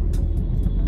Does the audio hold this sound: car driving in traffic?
yes